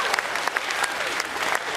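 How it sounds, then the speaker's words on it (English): An audience on a cruise ship event breaks into dense, steady clapping, a brief burst of applause that fills the room with no voices standing out. "A big round of applause for Jeff"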